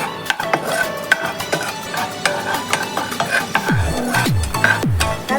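Garam masala hitting hot melted ghee in a pan, a steady sizzle broken by sharp clinks and scrapes of a spoon stirring against the metal, close and fairly loud.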